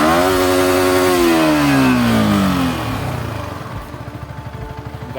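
Yamaha R15M motorcycle engine revved hard, pitch climbing then sliding down as the throttle is released, settling into a rough, pulsing idle; loud and close with no talk over it.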